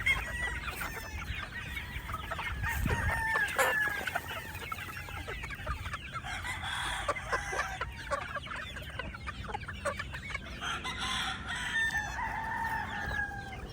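Hungry chicks peep in a chorus of high, busy chirps with occasional clucks from adult chickens, a steady lively farmyard din with no talk.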